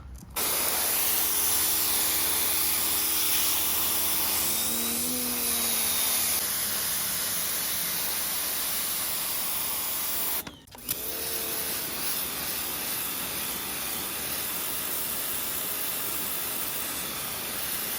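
A PowRyte 3800 PSI electric pressure washer running, a loud, steady close hiss of spraying water over a motor whine, broken by one brief cutout near the middle before it resumes, no talk.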